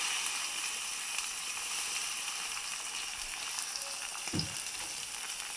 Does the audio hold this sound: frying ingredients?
yes